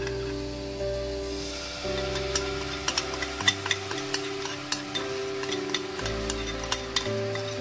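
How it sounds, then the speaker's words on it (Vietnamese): Sauce simmers and sizzles in a frying pan with golden garlic, chili and chili sauce for fried eggs in fish sauce, while a utensil scrapes and taps repeatedly through the bubbling, close and loud. "Nước sốt vô mình cho nó sôi riu riu, cho nó sôi lên một tí để nha, cho nó keo lại cái nước sốt."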